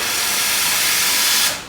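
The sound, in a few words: espresso machine steam wand being purged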